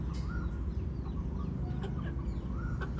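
Hens cluck steadily over a low, constant background rumble.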